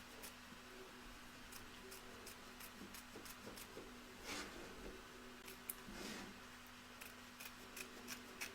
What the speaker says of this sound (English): trim around the edge of the stitch line